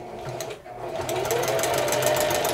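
A sewing machine stitches quilting lines in the ditch along the seams of a baby quilt, a steady close whirring drone that falters briefly, then runs on continuously.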